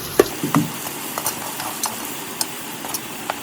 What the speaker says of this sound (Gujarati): પાછું હલાવી નાખીએ.